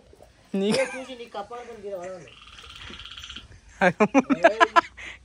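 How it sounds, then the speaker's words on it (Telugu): A frog croaks near a rocky hillside trail on a cave trek, its rapid rattling calls coming in a close burst at the end, after people talk and a faint buzzing drone. "కప్పది."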